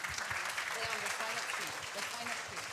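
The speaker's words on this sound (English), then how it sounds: "Thank you for a big round of applause for our panelists." Audience applause for the panelists at the close of a Dubai Future Forum session, a steady wash of clapping that fills the whole stretch at moderate distance, with faint voices murmuring underneath.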